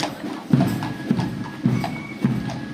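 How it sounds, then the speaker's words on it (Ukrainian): Horse hooves clip-clop in a steady, even rhythm of four clear hoofbeats, close by and fairly loud over low background noise. "Ось, бачите, ще коні їдуть."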